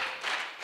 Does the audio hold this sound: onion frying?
no